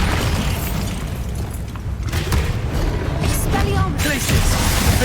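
Hogwarts Legacy Confringo and Bombarda spells explode in a dense, rumbling run of booms and crashes, with battle noise underneath and a voice briefly heard.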